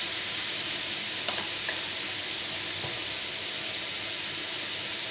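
Tomatoes, green chillies and coriander frying with golden onions in a pan give a steady, loud hiss and sizzle throughout, with a few faint stirring clinks and no talking.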